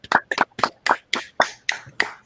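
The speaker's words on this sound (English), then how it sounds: "Everyone, a round of applause." Applause at a casual Friday gathering, heard as about eight sharp, separate hand claps in a quick uneven rhythm, close and fairly clear, with no voices over them.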